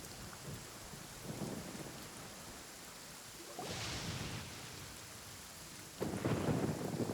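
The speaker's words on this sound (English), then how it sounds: "Very fitting that it's raining." Steady rain falls in Genshin Impact with rumbles of thunder swelling in and fading, one heavier roll building near the end, with no talk.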